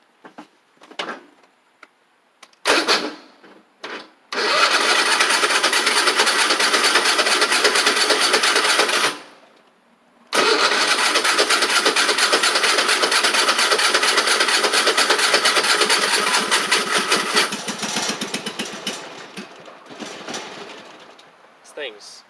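A Troy-Bilt zero-turn mower engine with crossed wiring cranks in short bursts, then catches and runs rough and choking with a loud rattling drone, cuts out briefly, restarts and fades down.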